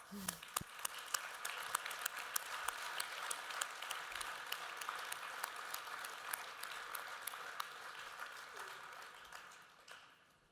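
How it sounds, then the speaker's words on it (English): Applause from a general assembly audience as award-givers and awardees come on stage: continuous clapping with sharp individual claps standing out, fairly distant and even, tapering off near the end. "I think we can give them a round of applause."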